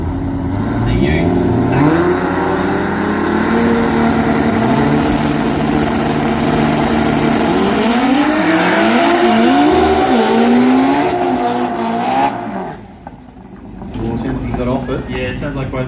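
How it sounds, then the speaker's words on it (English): Race cars in the modified 10.5 class making a final drag racing qualifying pass at the Brisbane Jamboree, engines roaring loudly and continuously with rising revs, then abruptly lifting off before a quieter tail, under a commentator's talk. "Yeah, it sounds like both cars are off the throttle early here."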